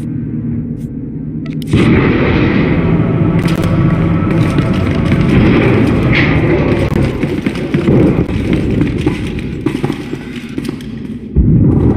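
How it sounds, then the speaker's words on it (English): Space-station flux cannons open fire in the game Star Wars: The Old Republic, a loud sustained barrage of booming blasts and rumbling thuds that surges in and keeps pounding for about ten seconds. "Station's cannons are firing on the stealth armada."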